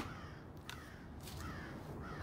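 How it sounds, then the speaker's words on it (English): A crow caws outdoors, giving a few harsh calls spread over about two seconds, faint and distant against a noisy background. "Oh, there's the crow."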